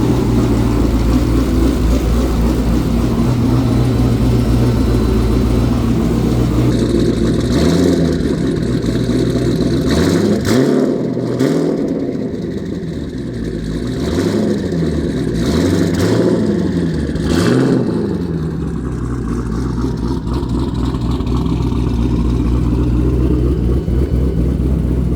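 A Corvette C6 Z06 warming up in a garage, its V8 idling loud and close before a series of sharp revs that rise and fall, then settling back to a steady idle.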